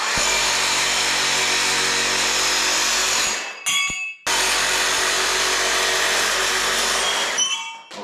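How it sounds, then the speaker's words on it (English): A loud power tool cuts metal brackets off for a quick outdoor project before snow, a continuous high whine running for several seconds, pausing briefly, then cutting again for another long stretch. "I'm just gonna cut these brackets off"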